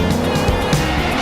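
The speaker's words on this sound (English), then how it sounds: "the standout being the car chase in the second episode" Engine roar and tire squeal from an anime car chase in Gunsmith Cats, set in Chicago; a loud, continuous motor drone with brief screeching skids.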